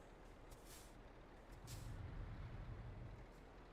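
A truck's air brake in the Euro Truck Simulator 2 game hisses in two short, faint bursts over a low, quiet engine rumble that swells slightly near the end.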